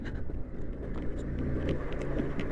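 A vehicle crawls slowly along a steep hill road, its engine a steady low rumble close to the microphone, with some wind noise and no talk.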